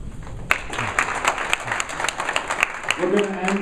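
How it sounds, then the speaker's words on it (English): An audience at a talk event applauds, a dense burst of clapping that runs throughout, with a voice speaking over the end. "another round of applause for everyone who came out, for our speakers."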